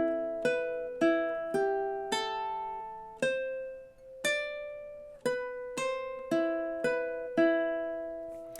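A ukulele plucks the Exorcist theme's riff, starting on open chords: bright, ringing notes struck one at a time in a steady, repeating pattern, each decaying cleanly, close and alone without any voice.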